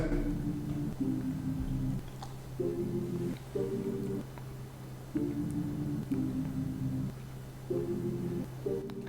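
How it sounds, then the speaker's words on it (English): A sustained synth pad played from a custom sampled instrument in the XX24 sampler, repeating chord stabs in a steady pattern over a low held tone, fairly quiet under a soft noise floor, with no voices. "we got the pad up on top."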